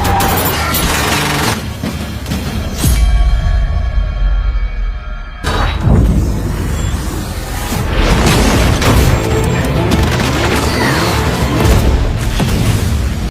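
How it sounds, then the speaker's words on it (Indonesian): A sci-fi film battle against a combat robot erupts in loud, continuous gunfire and heavy booming explosions. The dense barrage stays intense throughout, broken by one short, sharp, ringing moment before the blasts resume. "aksi tembak-tembakan pun terjadi."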